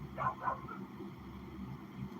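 A dog barks twice in quick succession at a distance, fairly faint, followed by a softer yip, over a low background hum.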